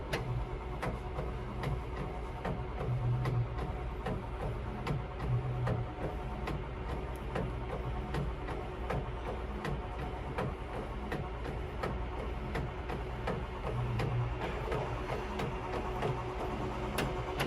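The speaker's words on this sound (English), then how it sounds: "you can see it printing the white layer right now" A DTG G4 direct-to-garment printer lays down a white ink layer on a T-shirt, giving a steady mechanical hum with regular ticking carriage passes and faint rhythmic clicks throughout, alone without talk.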